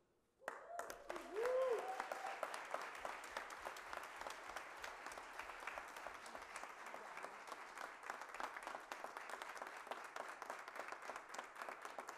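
Sustained audience applause at a solemn legislative session honouring a physical education professional, with many hands clapping steadily for over ten seconds after a brief opening voice.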